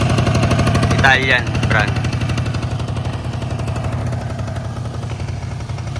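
Honda Dio Baja XR scooter engine fitted with a LeoVince SP3 exhaust pipe, idling with a steady, close, low throbbing drone throughout; someone speaks briefly near the start.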